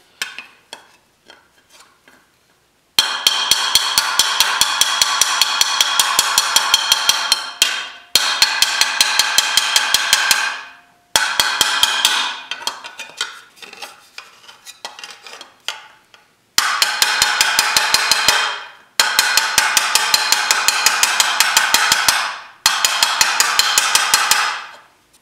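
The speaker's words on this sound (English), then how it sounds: "A little bit of work up in this section using the rounded side of the hammer." Rapid, evenly spaced blows from the rounded side of a hammer ring on a sheet metal motorcycle fender in several long bursts, with short pauses between them and a bright clanging tone.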